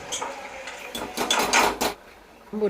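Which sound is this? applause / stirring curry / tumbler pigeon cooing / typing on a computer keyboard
stirring curry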